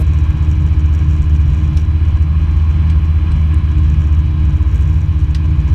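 Engine of a SportStar light aircraft running steadily during a pre-taxi check, a loud continuous low rumble and drone with no voices over it.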